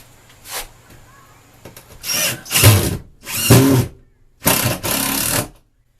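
Power drill driving screws into a wooden barn header being boxed in and glued, heard as four short, loud whirring bursts close by, separated by brief pauses and some faint handling noise.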